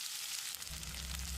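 Thinly sliced large onions hitting hot oil with mustard seeds and cumin, a steady bright sizzle that swells louder partway through, with no voices.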